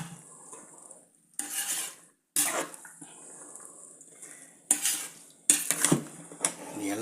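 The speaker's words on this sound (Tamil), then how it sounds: "அந்த கலவையெல்லாம் போட்டு வச்சு நல்லா மிக்ஸ் பண்ணிக்கலாம் வேக வச்ச காயோட" A spoon stirs a ground spice mixture into boiled vegetables in a pot, with bursts of scraping and clinking separated by quieter stretches and a soft background hiss, close by.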